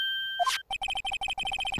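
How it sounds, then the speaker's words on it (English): A phone rings in the video game Phoenix Wright: Ace Attorney, a rapid electronic trill of short repeated beeps, loud and clear, after a brief rising chime, with no voices. "The phone that rang earlier wasn't mine."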